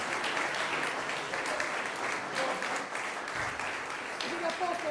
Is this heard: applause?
yes